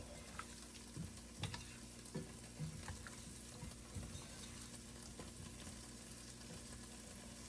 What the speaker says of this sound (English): I'm gonna let this sit so it can start to fry up